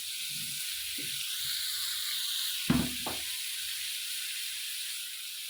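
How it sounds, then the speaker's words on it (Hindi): Moong lentils roasting in a pan with a steady broad hiss and sizzle, broken by a few soft knocks and a brief clatter of stirring. "एक 2 मिनट इसको भून लेते हैं मूंगों को।"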